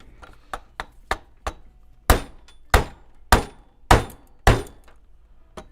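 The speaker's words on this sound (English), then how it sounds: "If I had a hammer, I'd hammer on this fake charger" A hammer smashes a fake laptop charger on a desk: five light taps followed by five heavy, evenly spaced blows, loud and close, each with a sharp crack and short decay.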